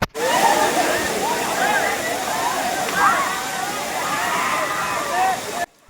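Gandahati waterfalls in Odisha send up a loud, steady roar of falling water that fills the whole stretch, with people's voices carrying over it.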